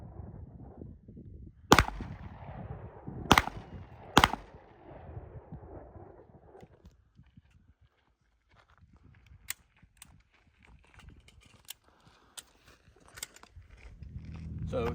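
Sig P365 AXG Legion pistol fired at an outdoor shooting range: three loud, sharp shots in the opening seconds with fading echoes, then quieter, more distant pops and clicks from other shooters, with some background talk.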